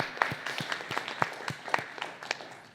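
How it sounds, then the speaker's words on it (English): Audience at the Global Sustainability Summit at Northeastern University claps, with individual sharp hand claps standing out from a thinner, uneven applause that gradually fades. "Let's give her a big round of applause."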